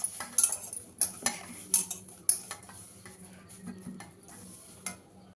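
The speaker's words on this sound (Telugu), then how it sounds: "చపాతీ పిండిలాగా బాగా ఇలా కలపాలి." Biscuit dough being mixed by hand in a bowl, kneaded like chapati dough, gives soft repeated stirring and squishing with intermittent light clinks and taps against the vessel, close and fairly quiet, with no talking.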